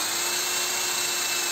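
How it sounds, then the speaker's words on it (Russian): Electric drill with a 4 mm bit enlarging an existing hole in a 3D printer extruder part, a steady high-pitched whir running unbroken through the brief moment, close and alone. "Для этих целей нам понадобится дрель и сверло диаметром 4 мм."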